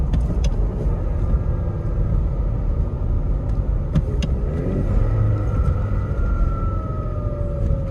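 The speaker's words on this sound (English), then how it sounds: "So pretty snappy for a little turbo diesel." A 1995 Toyota Hilux Surf with a small turbo diesel engine drives along, its steady engine drone and road rumble continuous and close, with a rising whine as it pulls through the gears.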